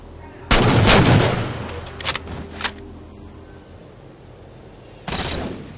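Gunfire in a video game called The Pistol King: two loud, sharp shots with long ringing tails, around a second apart at the start, a few lighter clicks in between, then another heavy blast near the end.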